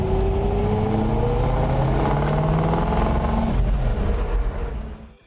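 A 1964½ Ford Mustang engine revs hard and loud, rising and falling pitch sustained for about five seconds before cutting off abruptly, heard alone with no talk.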